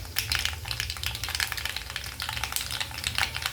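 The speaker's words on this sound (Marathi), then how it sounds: "आता इथे आपली जिरे मोहरी छान तडतडली आहे, म्हणजे छान फोडणी बसलेली आहे जिरे मोहरीची।" Cumin and mustard seeds crackle and pop steadily in hot oil as a tempering for mango pickle, a dense, continuous sizzle of close sharp snaps.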